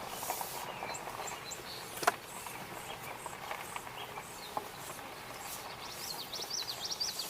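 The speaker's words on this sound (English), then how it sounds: "And I'm hearing a robin sing in the distance." An American robin sings in the distance, with faint scattered chirps and short warbled phrases over an open outdoor background hiss, with no speech.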